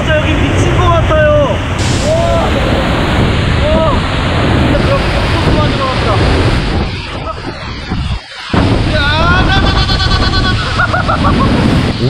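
The roar of Niagara Falls with wind and drenching spray, a dense, loud, continuous rushing wash close by, with gusts buffeting and voices faintly calling beneath it.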